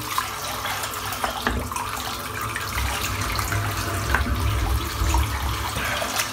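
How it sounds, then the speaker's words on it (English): Water pours from a tap as a sink is rinsed and filled with fresh water for head shaving. The flow is steady and close, with small splashes and clinks. "Just rinse the sink out, put some nice fresh water in."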